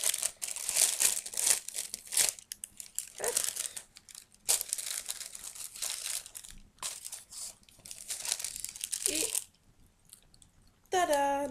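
Packaging crinkles and rustles as a Glossy Box beauty subscription box is opened. Close, uneven bursts of crumpling paper and plastic are broken by brief pauses, with a quiet stretch near the end.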